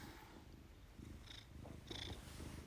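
A soft, steady cat purr rumbles low and close, with faint higher rustling sounds drifting in and out.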